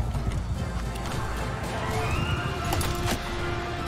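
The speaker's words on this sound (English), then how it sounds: "Oh, I hit one of my own horses." Horse in the Bannerlord video game amid a battle, hooves clip-clopping steadily with a brief whinny, set against a dense, continuous din of combat noise.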